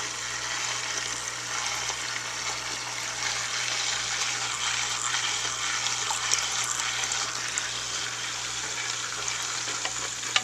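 A Top Fin aquarium filter pumps water with a steady, close splashing and bubbling wash over a low motor hum, continuous and unchanging throughout.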